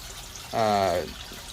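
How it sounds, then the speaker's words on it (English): Small garden pond waterfall fed by a pump, a short burst of trickling, splashing water rising briefly over quiet background and then fading. "now I have a nice little waterfall"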